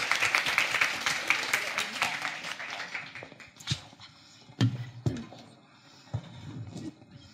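An audience at a gender equality conference applauds panelists, a burst of clapping that fades over a few seconds into scattered claps and room noise.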